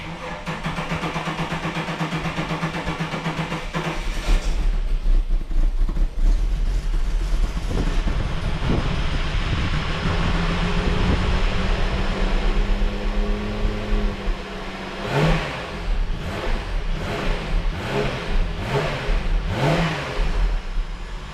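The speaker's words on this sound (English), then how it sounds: "we'll start it up and blast all the stuff out the back." A VY Holden Commodore engine starts and revs during a service, the exhaust note climbing and falling through several sharp throttle blips toward the end, loud and close.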